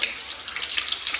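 Water runs steadily from a kitchen tap over coriander leaves being rinsed, a close, loud hiss with soft splashes and no talking.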